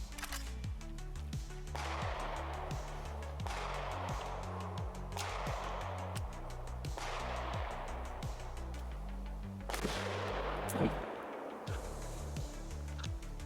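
Rifle gunshots of M193 ammunition fired from a 10.4-inch barrel into a Level 4 armor plate during a test, about seven loud sharp reports spaced roughly every one to two seconds, each with a ringing tail.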